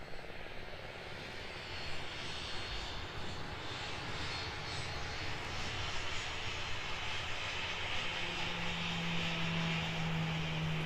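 Virgin Australia Boeing 737 taxiing past at snowy alpine Queenstown Airport, a steady broadband jet engine roar that holds loud and even throughout, with a low tone emerging near the end and no talking.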